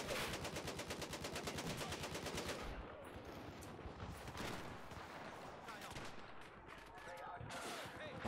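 Sustained automatic gunfire in Battlefield 4, a fast loud rattle of shots up front that gives way to scattered bursts and explosions, with a voice talking over the combat.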